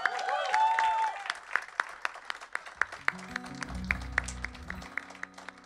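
Audience at a live indie music show applauds with scattered claps and some cheering, moderately loud and close, while a low sustained tone swells up underneath partway through.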